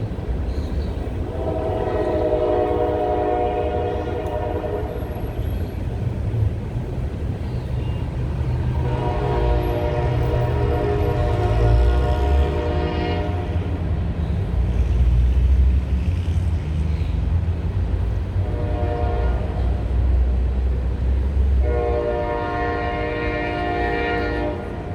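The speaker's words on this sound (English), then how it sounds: "I'm going to pause for a moment and let the train pass." A train rolls past an outdoor Memorial Day flag ceremony in Ironton, its rumble steady throughout as the horn sounds in several long blasts, near and loud.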